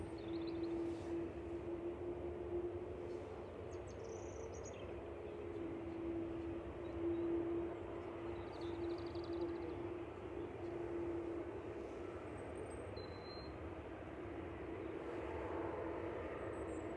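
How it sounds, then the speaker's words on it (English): An Airbus A380 taxiing at Manchester Airport gives a steady, distant jet-engine roar with a faint whining tone, continuous and even throughout with no voices. "So we've got the A380 taxiing in."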